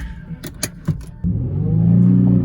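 A Nissan 350Z pulls away after a few clicks and thumps, its engine note rising steadily as it accelerates, heard from inside the car with no talking.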